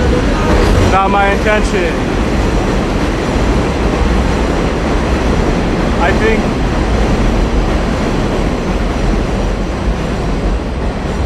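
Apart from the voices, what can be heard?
passing train on elevated rail line, Roosevelt Avenue, Queens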